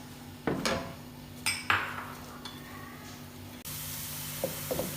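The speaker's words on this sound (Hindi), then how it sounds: "इसको ऐड कर देंगे और इसको करेंगे ऑयल के अंदर फ्राई" Finely chopped onions dropped into hot oil for chana dal pulao, with a few clanks of utensils against the pan, then a sudden loud steady hiss of frying that carries on, close and without talk.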